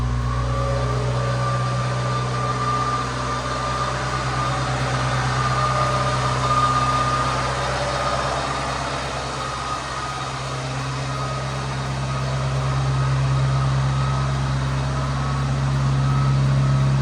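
Steady low rumble of an engine idling close by, constant and unbroken throughout with a faint mechanical hum.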